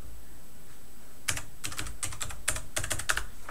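A computer keyboard typing in a login password, quiet at first and then a quick, irregular burst of close keystrokes clattering for a couple of seconds with no voices.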